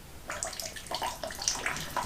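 Water pouring down in a thin continuous stream, a splashing trickle like liquid falling into a basin, close and moderately quiet, with a few louder splashes near the end.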